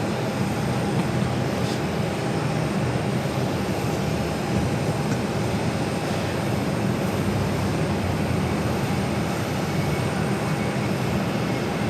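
An Airbus A330-300 heavy jet rolls for takeoff at Phoenix Sky Harbor, heard as a steady, broad engine roar that holds constant and fairly loud for the whole stretch, with no voices over it.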